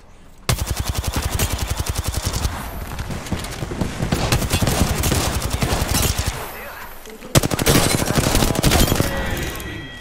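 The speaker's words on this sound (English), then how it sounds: "I am taking fire, friends." Sustained automatic gunfire in the battle royale shooter Apex Legends, loud and close, with fast rattling bursts that pause briefly before a sharp restart, while a player's voice sits under the shooting.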